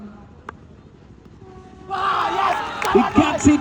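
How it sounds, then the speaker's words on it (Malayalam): A cricket match crowd starts cheering and roaring, rising suddenly from a quiet murmur into a loud, surging swell of voices with shouts over it in the second half. "ആരവങ്ങൾ തുടങ്ങുന്നു ആഘോഷങ്ങൾ തുടങ്ങുന്നു"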